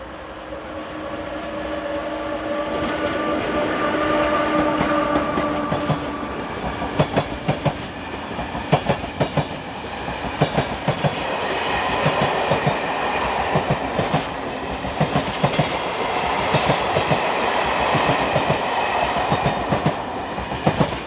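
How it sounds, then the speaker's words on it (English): A Slovak class 362 locomotive in two-tone blue and white livery hauls the Sundays-only passenger train to Bratislava, rumbling loudly past with a steady roar and rhythmic clickety-clack of wheels over rail joints. "The train is the Sundays only 1406 Umene to Bratislava."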